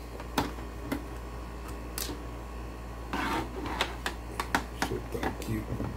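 Screws being loosened from the stand of an Acer G205HV monitor during a repair, giving a series of small sharp clicks and ticks at close range, spaced irregularly over a steady low hum.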